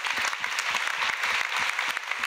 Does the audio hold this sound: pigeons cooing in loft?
no